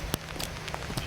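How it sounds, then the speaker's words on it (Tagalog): Steady rain patters densely on a surface, a continuous hiss dotted with sharper drops, with no voices. "Lakas ng ulan."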